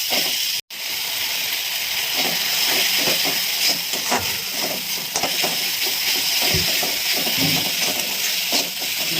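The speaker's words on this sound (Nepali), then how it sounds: "अब चाहिँ म यो मसला हालिदिन्छु, त्यसपछि चाहिँ मैले भुट्छु।" Spices sizzle in hot oil for a pabda fish curry, a steady, loud frying hiss that runs without a break and without talk.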